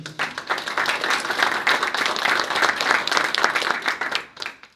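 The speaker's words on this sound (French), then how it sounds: "Si vous voulez bien applaudir Jérémy." Audience applause after a presentation at a professional building-renovation event, a clear burst of clapping from a modest crowd that holds steady for several seconds and then tapers off near the end.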